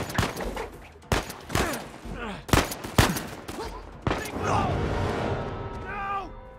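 Gunfire from a sniper and other weapons in Uncharted 4: A Thief's End, with a run of sharp, loud cracks spaced irregularly, followed by a denser rumbling stretch, while a voice shouts over it.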